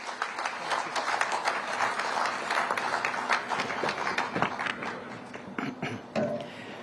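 Audience at a Haryana government ceremony where Chief Minister Nayab Singh Saini inaugurates projects, applauding a speaker: dense, sustained clapping from many hands, moderately loud, easing off toward the end.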